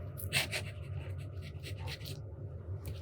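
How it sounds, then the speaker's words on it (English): A fountain pen scratches across 20-pound copy paper with soft, close strokes and brief pauses, the nib rubbing steadily and quietly. "The last writing sample is done on 20-pound copy paper."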